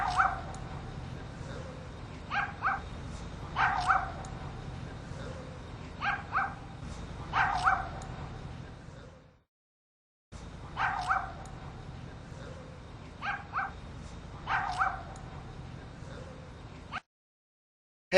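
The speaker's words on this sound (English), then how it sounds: "Murphy, tell him the program's over. Good dog." A trained dog gives short yips and barks in irregular bursts, moderately close, with a steady low background hum and a brief pause in the middle.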